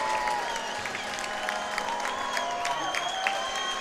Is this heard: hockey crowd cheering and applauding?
yes